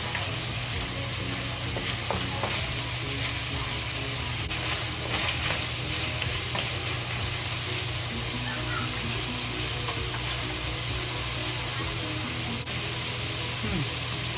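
Bok choy and mushrooms fry in a hot pan, giving a steady, close sizzle that runs unbroken for the whole stretch, with faint crackles throughout.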